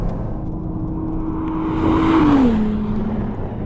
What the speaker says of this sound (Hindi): इसका 120 डिग्री वाला V6 इंजन एकदम जैसे ही आप थ्रॉटल पेडल फ्लोर करोगे एक्शन में आ जाता है।